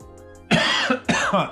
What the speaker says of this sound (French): Je tousse, pardon, excusez-moi.